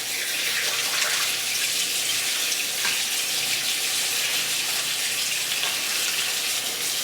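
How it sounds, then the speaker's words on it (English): Running kitchen tap water splashes over hands during pumpkin bread baking, a steady, fairly loud and even gush lasting the whole stretch with no talking. "Let me wash my hands real quick."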